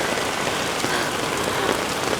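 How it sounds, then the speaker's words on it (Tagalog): Heavy rain pours down hard and steadily around a group caught outdoors on Oahu, Hawaii, a dense, close, unbroken hiss of water drumming on surfaces with no voices in between. "Tingnan nyo kung gaano kalakas ang ulan."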